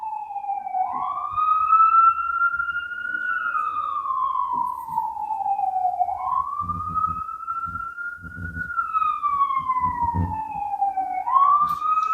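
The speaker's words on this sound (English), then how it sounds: "I don't know if you guys can hear those sirens" A wailing siren rises and falls in long sweeping cycles, steady and fairly loud, with faint traffic rumble beneath.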